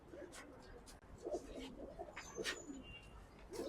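Pigeons on a house rooftop coo softly in short, low, throaty bursts, fairly faint against a noisy background, while someone talks over them.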